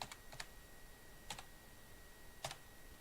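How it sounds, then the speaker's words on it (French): Computer keyboard typing in a quiet room, a few faint clusters of key clicks spaced out with pauses between them. "si je veux chercher ici des désignations et chercher des vis, je tape vis, ou alors je tape"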